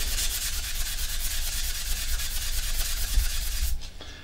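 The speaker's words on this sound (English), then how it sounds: "So we're just gonna give it a sand and see what we get." A cured coating is sanded by hand in a fast, rhythmic scratching rub, close and steady for several seconds before the strokes stop abruptly near the end.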